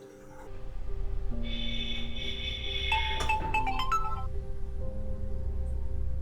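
Phone ringing from an unanswered call, an electronic ringtone playing a rising melodic pattern of tones over a steady low background hum, with no one speaking.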